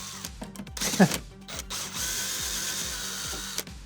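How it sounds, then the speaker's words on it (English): Power driver screwing a 3D printed part into drywall, a ratcheting mechanical whir with rhythmic clicking pulses and a brief louder grind, close and fairly quiet, with no voices. "Like the 20th thing I've screwed into the wall here."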